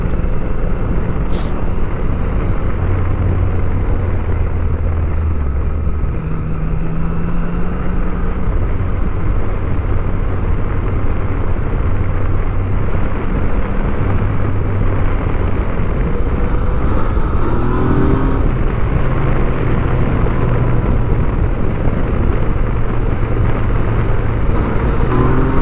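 Yamaha Tracer 900 GT motorcycle engine droning steadily while riding along mountain back roads in Japan, a continuous loud hum with wind noise and shifting engine tones throughout.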